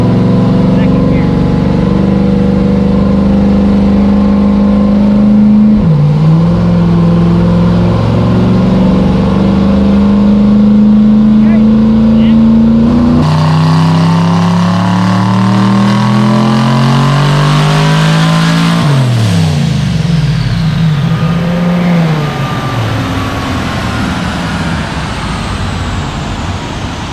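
A gasser race car engine revs hard in second gear, climbing in loud sustained pulls up to the rev limiter and bouncing there before dropping off, very close and dominant throughout.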